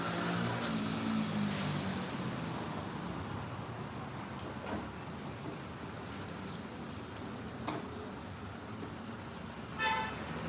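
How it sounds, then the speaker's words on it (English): Steady street traffic rumbles past a balcony in Medellín, a continuous loud wash of engines with a brief honk or toot near the end, no talking. "when the traffic goes by, if it's really loud, I'll close the balcony door"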